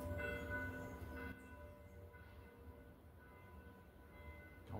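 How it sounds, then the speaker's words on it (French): A church bell rings out with a sustained, humming tone, a stronger stroke near the start fading into a long resonant decay, heard at a moderate distance without any talk. "on va laisser la cloche finir."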